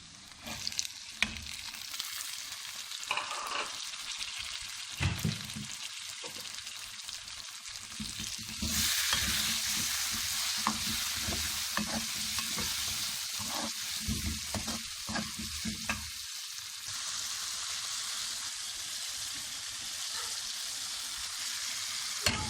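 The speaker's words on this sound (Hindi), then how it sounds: "मसाला हमारा फ्राई हो चुका है।" Masala with tomato and carrot sizzles in a pan while being stirred, with scraping strokes and a frying hiss that swells louder midway and stays steady.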